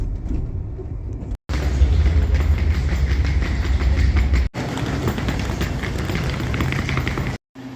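Amtrak Capitol Limited train rolling into Washington Union Station, heard from onboard as a loud, steady rumble with rhythmic clickety-clack of wheels over rail joints, broken by brief cuts.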